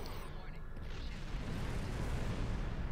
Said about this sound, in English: Our torpedo should be enough to send a message.